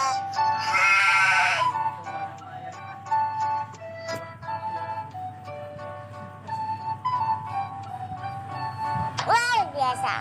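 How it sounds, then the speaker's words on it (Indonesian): A sheep bleats loudly up close in a long wavering cry at the start and again briefly near the end, with a voice talking and light chiming tones in between. "Domba."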